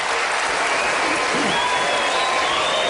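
A debate audience at a 2012 Republican primary debate breaks into dense, sustained applause that fills the hall evenly at a loud level.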